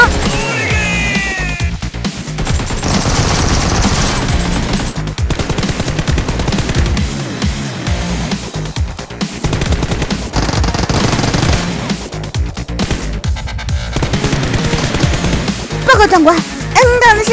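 AK rifle gunfire in the mobile battle royale game Peacekeeper Elite, loud bursts of rapid automatic fire over game effects, with a voice talking alongside.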